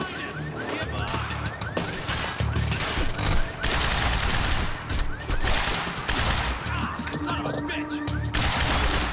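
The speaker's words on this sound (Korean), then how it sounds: "총소리 너무 큰 것 같아" Gunfire in the PC video game Quantum Break, loud rapid bursts of automatic weapon fire and single shots mixed with game effects and music, continuous and dense throughout.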